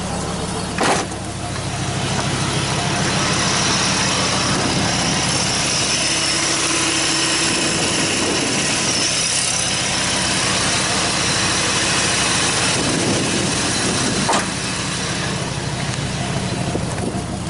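A 1995 Dodge Ram V10 truck engine, low on fuel, runs steadily at idle, a constant close rumble filling the whole stretch with little change in pitch or level.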